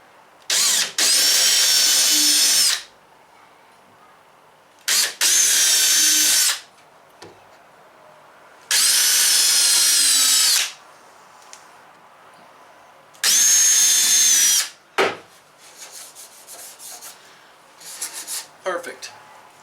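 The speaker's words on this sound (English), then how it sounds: "So we're going to put about 3 screws in here, I think." Power drill driving screws into a wooden storage shelf in four loud bursts of whining motor, each about two seconds, separated by quiet gaps with light handling clatter.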